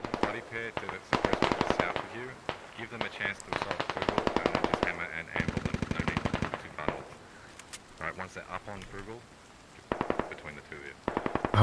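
Rapid automatic gunfire and single shots in the military shooter game Squad, loud bursts repeating through most of the stretch with brief lulls, mixed with occasional talk.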